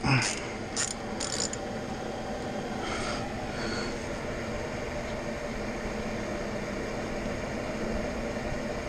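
A ratchet loosens an 11 mm bolt under a 2017 Ford Escape while draining transmission fluid, with a few quick clicking bursts near the start and again briefly later over a steady background hiss.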